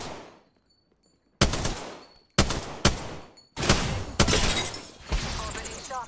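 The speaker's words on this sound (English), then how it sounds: "Shots fired, and they're hitting me." Gunfire in a ranked online shooter match: several loud, sharp bursts of shots, some in quick double cracks, separated by short silences, close and dominant with no voice over them.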